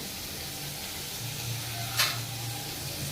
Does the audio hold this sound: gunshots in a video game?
no